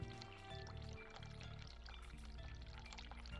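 Hot water pours in The Cat Lady video game, a close, continuous splashing stream with bubbling gurgles and no voices.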